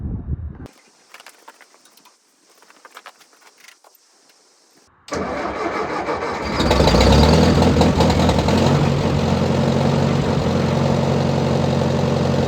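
A half-track parked in snow cranks over and fires up, first some faint knocks and clanks, then the engine catching abruptly and settling into a loud, steady idle that rises slightly as it warms up.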